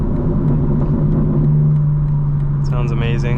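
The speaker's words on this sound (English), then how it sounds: "Again, I'm downshifting to engine brake." Engine of a 2025 BMW M4 Competition xDrive braking on a downshift during a night drive, a steady low drone that rises in pitch near the end, with someone talking over it.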